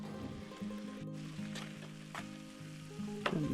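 Butter sizzles in a pan with cumin and salt, a steady frying hiss with soft scrapes from stirring, close and fairly quiet, with no talk over it.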